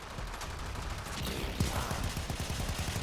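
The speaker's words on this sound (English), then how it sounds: "there is the sound effect changes with her regulator pistols" Mesa's Regulator pistols from Warframe fire in a fast continuous stream, a dense rattle of rapid gunshots lasting several seconds at moderate, slightly muffled loudness.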